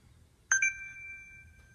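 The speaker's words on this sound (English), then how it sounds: "Notification beeping in the background." A single bright electronic notification chime on a Samsung Galaxy Sky phone during setup, two quick tonal strikes ringing out and fading over about a second, quiet and alone in a near-silent room.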